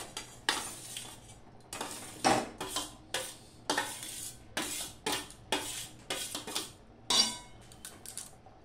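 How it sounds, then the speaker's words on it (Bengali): Grated coconut being stirred in a metal wok, with a series of close scraping and clinking spatula strokes in an uneven rhythm, each stroke sharp and brief, separated by quiet gaps. "কড়াইতে এবার আমি এগুলো দিয়ে দিলাম।"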